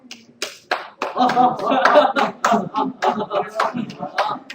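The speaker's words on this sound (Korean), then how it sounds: "박수 한번 보여드리겠습니다." Hands clap in a quick, uneven series of sharp claps, close by, with voices mixed among them.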